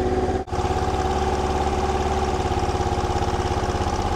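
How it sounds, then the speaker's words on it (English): A Honda Deauville motorbike engine idles steadily close by, a continuous low throbbing rumble with a brief dropout near the start and no voices. "we actually have a running motorbike."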